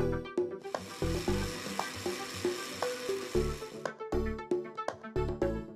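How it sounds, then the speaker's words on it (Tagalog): Softened sweet potatoes (kamote) sizzling as they cook for an Albay candy, a steady hiss punctuated by sharp clicks and knocks of utensils against metal, fairly quiet and close. "it's grilling time!"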